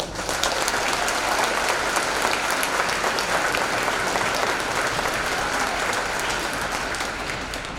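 Sustained applause from a sizable crowd at a high school graduation, dense and even throughout, with no break in the clapping.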